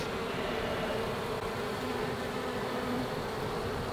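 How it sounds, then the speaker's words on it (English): A dense swarm of honeybees hums continuously around frames pulled from a hive, a close, steady drone with no breaks or voices. "I have never been around this many bees"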